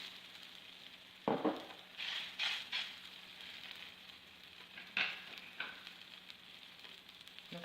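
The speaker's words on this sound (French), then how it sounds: "Elle est très chaude, hein, donc il faut vraiment la bien chauffer. Et je vais mettre la crêpe dedans." Msemen, a Moroccan crepe, laid into a very hot oiled pan, giving a sudden burst of sizzling that settles into quiet frying with a few scrapes and soft crackles, close and fairly faint.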